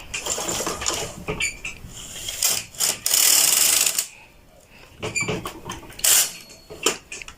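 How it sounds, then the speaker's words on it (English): A knitting machine lace carriage sliding back and forth across the needle bed, making loud, repeated mechanical clacking and ratcheting sweeps with brief pauses between passes, close up and with no talk. "Okay, so we need 2 rows of our lace carriage."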